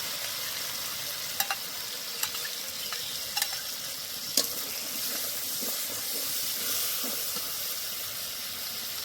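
Thick sesame paste going into spices frying in a pan for a vegetarian soybean curry, giving a steady close sizzle and hiss with a few soft stirring scrapes and taps, no voices.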